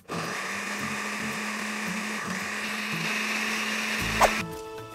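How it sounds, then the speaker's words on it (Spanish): A blender blending tomatoes with water whirs steadily at high speed, a continuous motor drone that cuts off near the end with a short clatter. "Y ahora vamos a licuar perfectamente."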